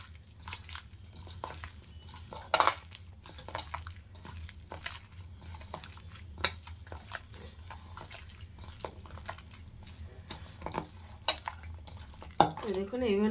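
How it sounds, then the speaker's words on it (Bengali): Boiled potatoes being mashed and squeezed by hand for aloo paratha filling, heard as soft, irregular squishing and kneading with a few sharper knocks, close and fairly quiet, with no talk. "তো আলু দুটোকে আমি একটু এরকম নরম করে মেখে নেব"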